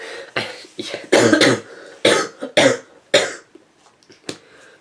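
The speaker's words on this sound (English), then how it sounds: "That was ironic that cough happened right there." Several sharp, harsh coughs burst out close by in an uneven series, with brief pauses between them and quieter breathy sounds trailing at the end.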